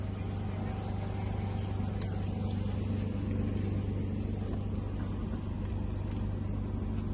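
A boat motor runs steadily and close by, a constant low droning rumble that holds level with no gaps throughout, with faint voices underneath.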